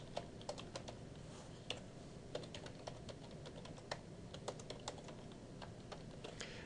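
Someone types an email address on a computer keyboard, a steady run of quiet keystrokes with no voices, fairly close but soft.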